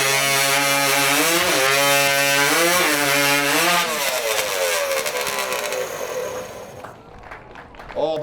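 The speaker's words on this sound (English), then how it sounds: "another Dennis Cahoon built saw, this time a 330cc Honda Power" A Dennis Cahoon-built hot saw powered by a 330cc Honda engine cuts timber at a New Zealand timbersports championship. The engine screams loud and high, its pitch rising and falling as it bites through the wood, then winds down and drops away.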